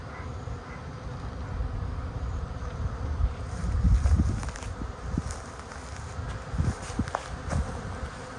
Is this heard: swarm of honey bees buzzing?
yes